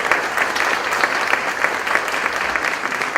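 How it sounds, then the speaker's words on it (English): Another round of applause from an audience at a 2016 Pink Link check presentation, steady dense clapping lasting throughout, close and fairly loud with no speech over it. "They definitely deserve another round of applause."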